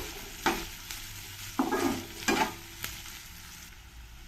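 A tempering is stir-fried in a pan while making gobi manchurian, giving a faint sizzle broken by a few sharp scraping strokes of the spoon, with no voices.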